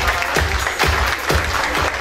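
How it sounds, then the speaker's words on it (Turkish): Hearty audience applause for the couple Melike and Emrah at their wedding celebration in Çorlu: loud, close, sustained clapping with a few heavier thumps recurring through it. "Onları canlı yürekten bir alkışlayalım efendim."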